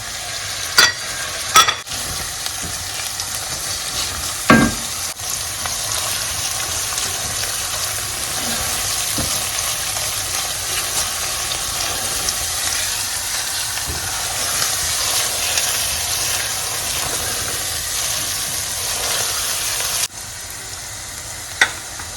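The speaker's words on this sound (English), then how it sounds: "We'll go ahead and add our bay leaf. and the tomato paste" Bay leaf and tomato paste fry in a pot of jollof rice, giving a steady, close sizzle with a hiss like steam that runs the whole time, broken by a few sharp clanks of stirring near the start and again near the end.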